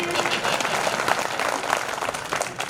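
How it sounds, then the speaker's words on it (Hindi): An audience at a Hindi poetry gathering bursts into applause as a devotional bhajan ends, a thick, steady wash of many clapping hands held at full strength throughout, close and lively. "भजन समाप्त, तालियां बजाइए"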